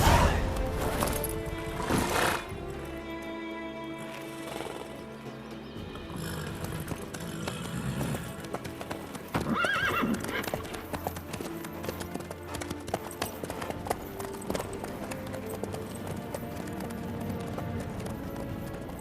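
Horse hooves clip-clopping in The Witcher 3: Wild Hunt on PS5, a continuous rhythmic trot under game music, with an occasional neigh.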